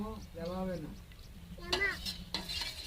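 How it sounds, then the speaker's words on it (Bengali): Sour yogurt being beaten with a spoon in a bowl, quick scraping and clinking strokes close by, heard alongside a person talking. "এটাকে ভালো করে ফেটিয়ে নিতে হবে"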